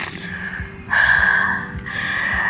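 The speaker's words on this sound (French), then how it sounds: "Prends 5 respirations profondes." Deep breathing during a yoga session, a slow, close breath drawn in with a hissing, nasal quality, followed by another long breath.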